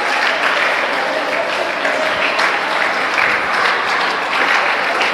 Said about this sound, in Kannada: ಇನ್ನೂ ಸ್ವಲ್ಪ ಚಪ್ಪಾಳೆ ಜೋರಾಗಿ